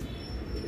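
A racing pigeon, one of the birds being clocked in during a derby race, gives a short, soft, low coo close by against steady background noise.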